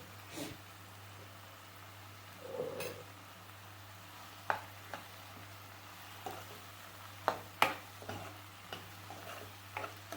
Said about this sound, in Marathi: कांदा टोमॅटो शिजताना आपण ही सिमला मिरची टाकूया। ही पण ह्याच्यामधून परतून निघू दे।